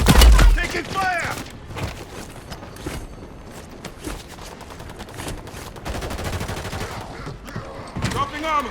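Gunfire in the Modern Warfare 3 Santa's Slayground holiday event, bursts of rapid shots and sharp cracks over game ambience, with a loud thump at the start and radio-style voice callouts mixed in.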